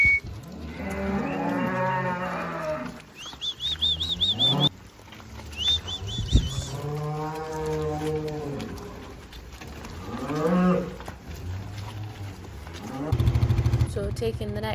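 Cows and calves moo repeatedly at a farm during annual vaccinations, calls near and loud, some long and drawn out, with a few bird chirps and handling noises in between and a low rumble near the end.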